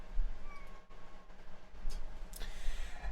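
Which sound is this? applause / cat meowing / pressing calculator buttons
cat meowing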